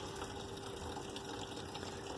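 Water pours steadily into a small washing machine inside a camper for a rinse cycle, a faint continuous rushing fill with a low pump-like hum, with no talking.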